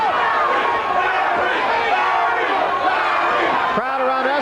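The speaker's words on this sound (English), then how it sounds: "Crowd around us chanting, Larry, Larry" A boxing arena crowd at a 1985 IBF title fight chanting the name of Larry Holmes: a loud, dense, continuous roar of many voices, with a commentator talking over it.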